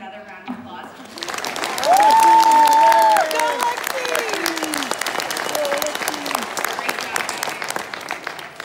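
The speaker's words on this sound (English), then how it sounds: "give him another round of applause" An audience at a school district young authors conference breaks into a loud burst of applause after a short quiet moment, with whoops and voices over the dense clapping, which carries on steadily and then eases slightly.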